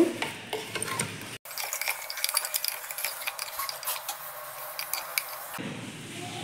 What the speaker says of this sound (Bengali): এবার আমি ভালো করে এটাকে নাড়িয়ে নেব, সব কিছু মিশিয়ে নেব।